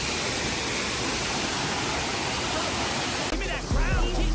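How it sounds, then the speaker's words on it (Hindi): A waterfall in Jim Corbett roars as steady broadband rushing water close by, then near the end the roar dips slightly and a few louder handling bumps and a voice cut in. "तो this is a beautiful waterfall, बहुत सुंदर है"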